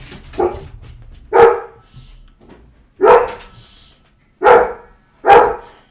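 A dog barks loudly nearby, four or five sharp single barks spaced about a second apart, with a faint hum underneath.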